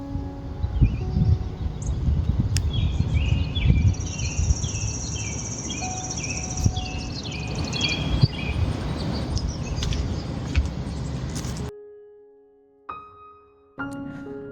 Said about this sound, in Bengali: আর সুন্দর পাখি ডাকছে।